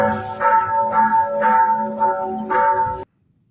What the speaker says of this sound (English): here's the bells